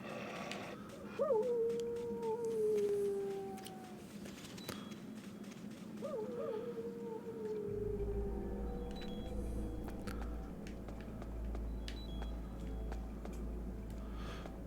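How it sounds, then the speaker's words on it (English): Guard dogs in Metal Gear Solid: The Twin Snakes let out two long, wavering howls a few seconds apart over a steady low game-ambience drone, with faint clicks and thumps throughout. "Oh my god, these dogs."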